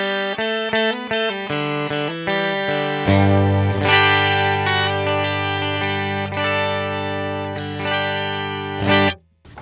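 An electric guitar runs through a POG octave pedal in the effects loop of a Line 6 HX Effects unit, playing quick picked notes and then sustained, shimmering octave-doubled chords that cut off at the end.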